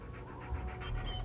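A pup panting in the video game Hell is Us, a quick steady run of close, breathy pants lasting just over a second, with no voices over it.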